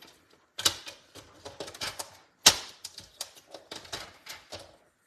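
Scissors cut a paper strip for a craft project, a close run of crisp snips and rustling paper, with two sharper cuts standing out among irregular quieter snips and no talk.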